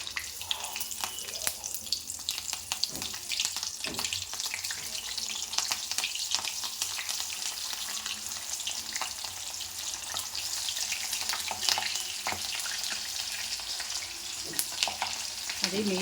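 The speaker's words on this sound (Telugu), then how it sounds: "పచ్చిమిర్చి ఇలా పొడవుగా రెండుగా చీల్చుకొని దాంట్లో ఆయిల్లో వేసి ఫ్రై" Green chilies slit lengthwise crackle and spit in hot oil, a bright, continuous sizzle heard close with occasional sharper pops and stirring scrapes, no talking.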